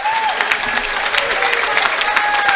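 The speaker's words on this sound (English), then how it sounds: "Gabe comes out of the game to an ovation of the crowd" A basketball crowd at a YU Macs versus Merchant Marine game gives a loud, sustained ovation with clapping and cheering, mixed with a few whistles, while a commentator talks over it.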